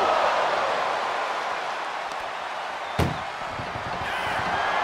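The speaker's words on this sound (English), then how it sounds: "Trying to force the first door close. Surviving the shutting door and escaping the ambulance." An ambulance door being forced shut on a wrestler at a wrestling match gives one sharp, loud metallic slam that cuts through steady crowd noise.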